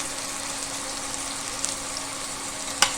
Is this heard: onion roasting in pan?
yes